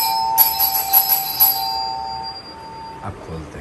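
An indoor doorbell rings with a bright, bell-like chime that sounds several times in quick succession and then fades, followed by faint household sounds.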